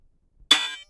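A snare drum hit pushed through a randomizing delay effect comes out as one sudden metallic clang, like metal bashing metal, with a shimmering smeared tail that fades within about a third of a second after near silence.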